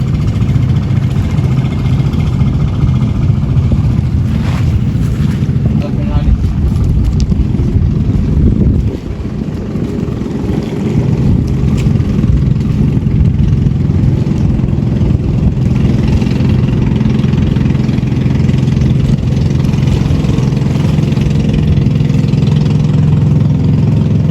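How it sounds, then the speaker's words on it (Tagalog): A motorboat engine drones loudly and continuously, a steady mid-pitched rumble with slight surges, close by, with no talking. "Ang bilis ng bangka oh."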